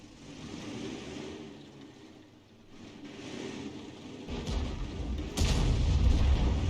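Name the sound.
SU-14-2 artillery shot in video game World of Tanks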